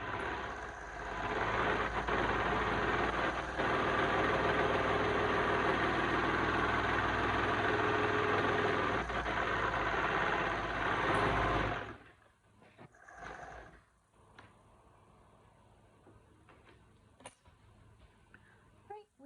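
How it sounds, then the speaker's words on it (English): A sewing machine stitches the end of a fabric tube closed with a steady, even whir for about twelve seconds, then stops, leaving faint handling noises. "Let's go ahead and sew that end to close it."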